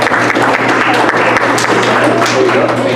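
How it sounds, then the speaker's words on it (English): Audience applause at a college TRIO information day, a loud sustained burst of clapping close by, with a steady low hum and some voices beneath it. "Let's give a round of applause"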